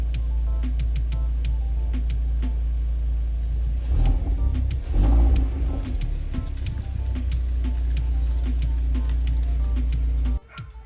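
A Hyundai Veloster N engine idles steadily with a low, even rumble, briefly rising around the middle before settling again and then cutting off abruptly near the end.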